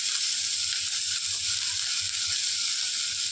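Onion, green chilies and curry leaves sauté in a hot pan, giving a steady, close hissing sizzle with faint stirring scrapes underneath, no voices.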